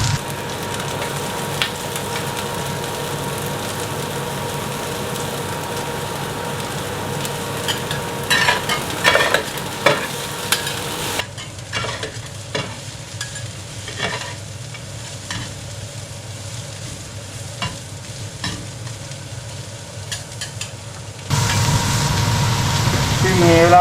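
Ginger, garlic and carrot fry and get stirred in a pan for cheese kottu, a steady sizzle with scraping spatula strokes that quiets midway and then swells louder again.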